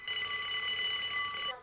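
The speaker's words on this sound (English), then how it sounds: "Probably somebody's alarm clock." An alarm clock in the video game Unheard rings with a bright, steady electronic tone for about a second and a half, heard alone and moderately quiet before cutting off.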